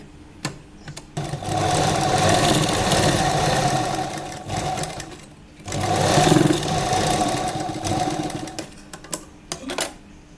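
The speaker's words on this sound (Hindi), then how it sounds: "हम यहाँ एक रफ सिलाई लगा लेंगे" A sewing machine running a rough stitch on lehenga fabric, two long steady whirring bursts separated by a pause, close and loud, with clicks and handling noises at the start and end.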